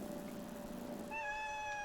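A cat in the video game Celeste gives a single clear, tonal meow that rises out of a soft, steady musical background and holds near the end.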